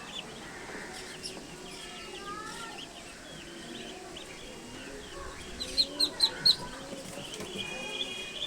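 Muscovy ducklings give thin, high peeping calls in a quiet shed, with a short cluster of sharper, louder chirps near the end over a steady low background.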